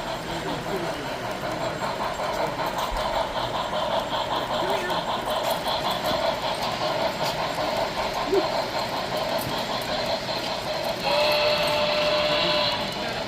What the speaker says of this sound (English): Here comes the circus train.